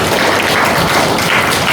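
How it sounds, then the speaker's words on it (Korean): Church congregation applauding at a pastor's installation service, a loud, dense, steady wash of many hands clapping with no gaps. "박수 한번 주십시오."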